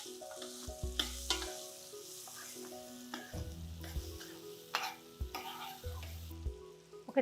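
Onion pieces frying in hot oil with a steady, close sizzle, punctuated by intermittent stirring and clinks against the pan.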